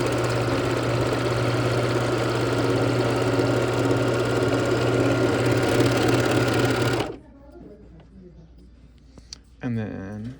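An overlocker stitches and trims fabric along a straight seam, running as a steady, loud mechanical whir for about seven seconds before stopping abruptly. A short, faint clatter follows in the quiet.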